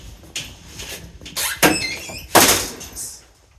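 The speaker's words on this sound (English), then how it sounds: "Close that door." A door is pushed shut in a small space, with a soft scrape, a couple of sharp knocks and a firmer thud of it closing, close by and without talk.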